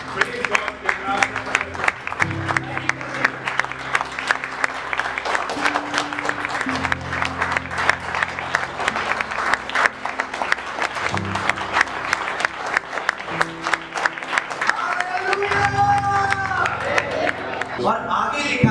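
Congregation clapping in praise during a Sunday worship service, rhythmic rapid claps and crowd noise sustained throughout, with voices and music-like tones mixed in and a swell of cheering toward the end.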